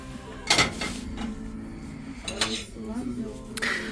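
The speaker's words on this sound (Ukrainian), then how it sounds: "Ось такі невеличкі сковорідки для млинців 22 сантиметри діаметр 299." Small 22 cm pancake frying pans handled on a shop shelf, making a few close metallic clanks and knocks, with a voice murmuring in the background.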